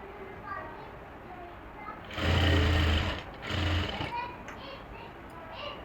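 Sewing machine running a loose basting stitch along a women's trouser hem, about two short bursts of close whirring under a woman's speech.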